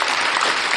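A brief burst of crowd applause added in post-production to a casual talk show, steady and full throughout with no break.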